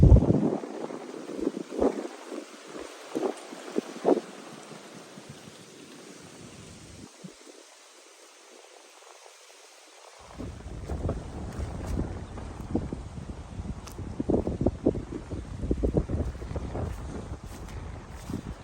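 Strong wind, strong enough to break trees, buffets the microphone in gusts, roaring and rumbling, with a short calmer lull before the gusting picks up again.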